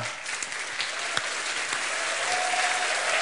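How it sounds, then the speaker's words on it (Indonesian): A church congregation clapping together, a dense, even patter of many hands filling the room, moderately distant and sustained throughout without a break. "Tepuk tangan."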